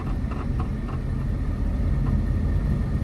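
A car pulls along a highway in third gear, its engine holding a steady low rumble with continuous road and wind noise, close and even throughout, no voices over it.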